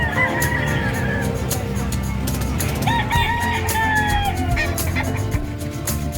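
Chickens at a busy livestock market, with a rooster crowing several times and hens clucking amid constant crowd chatter and background noise.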